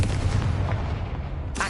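A Confringo blasting spell explosion in Hogwarts Legacy, a heavy low rumbling blast that swells and slowly fades, followed by a sharp burst of noise at the end.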